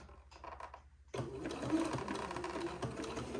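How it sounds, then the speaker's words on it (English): A sewing machine stitches gathers onto the bodice of a Christmas dress, starting after a quiet moment and then running as a steady, fast, close whir. "Just getting those little gathers where they don't fold over on themselves as I sew it to the entretot"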